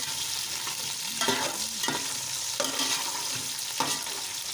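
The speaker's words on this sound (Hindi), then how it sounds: "तो अब हम इनको अच्छे से मिक्स कर लेंगे।" Chicken tikka biryani ingredients being stirred and mixed in a pan, with a steady sizzle beneath several distinct scraping strokes of the spoon, close and fairly loud, no voices.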